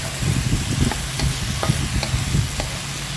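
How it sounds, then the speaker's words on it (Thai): Fried tofu with sliced spring onion and fried garlic being tossed and stirred in a hot pan, a continuous sizzle broken by repeated scraping strokes of the spatula, close and fairly loud with no voices. "คลุกเคล้าให้เข้ากันอีกรอบ"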